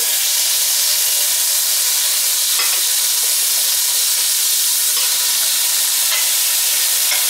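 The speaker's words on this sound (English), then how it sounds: "I'm going to introduce the fish to the pan. And you want to gently put it in." A cod fillet fries in a hot pan, giving a loud, constant sizzling hiss with a few faint crackles throughout, close by and without any talking.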